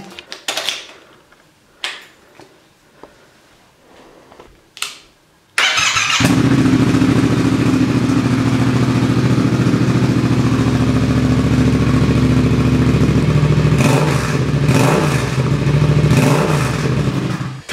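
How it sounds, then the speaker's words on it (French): A few mechanical clicks and clunks, then a Yamaha XSR 700 motorcycle with an SC-Project exhaust fires up and runs loudly with a rough idle and several throttle revs. "Je vais vous le faire écouter. On va démarrer la bécane."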